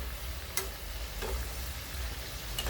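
Cabbage pakoda fritters fry in oil over a low flame, giving a soft, steady sizzling hiss. A few faint clinks sound at intervals.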